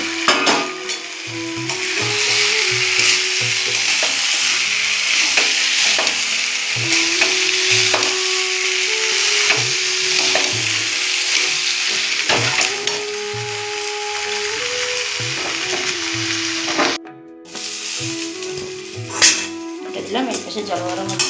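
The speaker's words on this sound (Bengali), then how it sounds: "এবার এটা একসঙ্গে দিয়ে কষানো হবে।" Chicken khichuri ingredients fry in a pan with a loud, continuous sizzle and stirring scrapes, a voice talking over the cooking much of the time.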